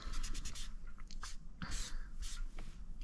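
Colored pencil shading on paper while filling in a coral reef page from an adult coloring book: close, dry scratchy strokes in short uneven bursts over a faint background hiss.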